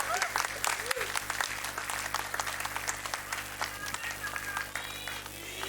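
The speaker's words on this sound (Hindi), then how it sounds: "प्लीज जोरदार तालियों से इनका स्वागत कीजिए।" Audience at a devotional gathering with a revered saint applauds in welcome: a dense, steady wash of clapping that carries through the whole stretch, with a low hum and faint voices underneath.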